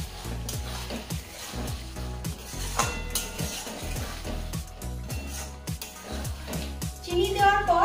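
Parwal curry with sugar being mixed in a pan, giving a steady run of spoon-on-metal scrapes and clinks in an even rhythm, with a faint sizzle beneath and a brief splash of water near the end.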